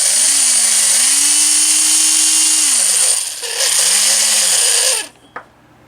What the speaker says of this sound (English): I think it's a 3/8 drill. So it does work.